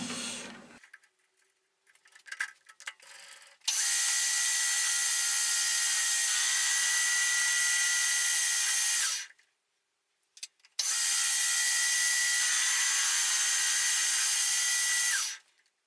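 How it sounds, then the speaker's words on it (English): Two long stretches of steady, whining machining noise from a metal lathe, each running several seconds with a short quiet gap between them. "Back in the lathe to bring them to length"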